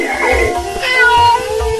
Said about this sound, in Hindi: एक बिल्ली हमारे रॉकेट की तरफ दौड़ते हुए आ रही है